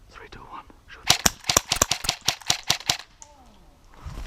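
A rapid string of about a dozen sharp cracking shots fires in quick succession, close and fairly loud, after a faint whispered voice, with quiet talk resuming once the burst ends.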